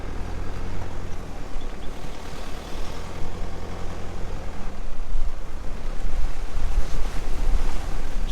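A vehicle fording the shallow flowing Murchison River beside a station house in Western Australia, heard as a loud continuous rumble of engine and rushing water with wind buffeting the microphone, rising in the second half.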